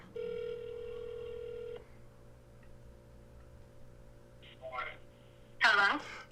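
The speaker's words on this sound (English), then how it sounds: "We got a phone call for you." A telephone call rings out during a live Q&A session, with one steady ring tone lasting nearly two seconds, then quieter clicks and a short louder burst.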